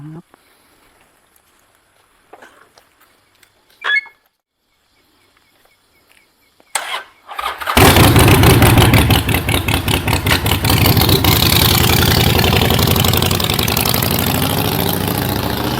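A car engine turns over after a few quiet seconds of faint background noise and light clicks, then settles into a loud, steady, close idle with a rapid even pulse for the rest of the clip.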